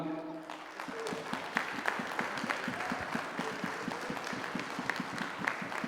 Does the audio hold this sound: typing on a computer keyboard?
no